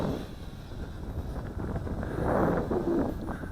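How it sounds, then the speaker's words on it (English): Steady wind buffeting a camera microphone outdoors in roughly 10 mph wind during a JJRC H21 hexacopter drone flight test, a continuous low rumbling roar that swells slightly louder partway through, with no talking. "I'm saying it's about 10 miles per hour wind here. You probably can hear it in my microphone on my camera."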